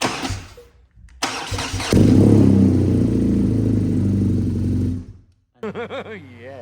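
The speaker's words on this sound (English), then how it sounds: "we're just going to fire it up because again we've got to get the oil lubricating" A BMW R NineT motorcycle engine cranks briefly, fires and settles into a loud, steady idle for about three seconds before being switched off, followed by a short burst of higher whining sound.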